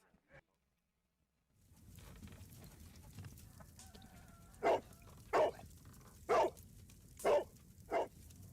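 A dog barks in the Sherlock Holmes: The Devil's Daughter video game, five sharp barks spaced roughly a second apart over a low outdoor ambient bed, fairly close and clear.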